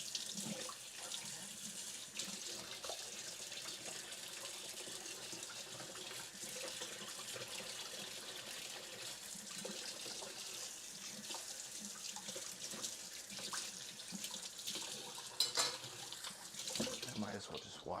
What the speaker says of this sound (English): I might as well just wash this cutting board.